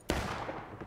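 A single musket shot cracks sharply nearby in the Civil War game War of Rights, followed by a short rumbling decay.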